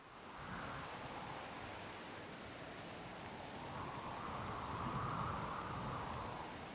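Rain pours steadily in the game RimBorg, a soft continuous wash of hissing noise that swells slightly and stays faint throughout.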